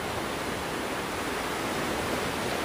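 River and waterfall rushing beside a hut near Interlaken, Switzerland: a steady, dense broadband roar of falling water with no breaks, fairly near and constant throughout, no voices.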